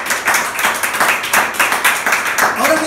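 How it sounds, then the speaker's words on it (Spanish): A church congregation at a Spanish-language service claps together in a steady, rhythmic beat. The clapping is close and loud, with a faint voice under it. "Denle un aplauso a Jesucristo."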